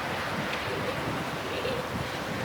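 Wind buffets the microphone steadily, with a broad rushing roar like surf on an open coast in England and no voices.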